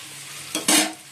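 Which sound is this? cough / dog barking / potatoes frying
potatoes frying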